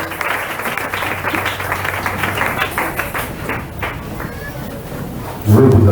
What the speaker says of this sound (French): Acclamons Jésus. On acclame le roi